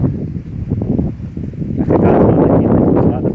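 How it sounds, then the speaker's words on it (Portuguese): Strong wind blows across a banana, soursop and cacao farm in Bahia, buffeting the microphone in a loud continuous rumble that swells even louder halfway through. "Porque o vento tá forte aqui, viu?"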